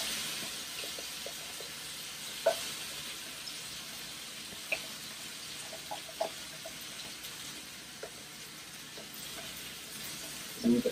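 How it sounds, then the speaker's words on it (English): Soft, steady sizzling and crackling of curry spices frying in a hot pan for dhaba-style chicken curry, with occasional light clinks and stirring sounds, fairly quiet and close. "Now you can see how hot this got. So we are just, and you can see that sizzling."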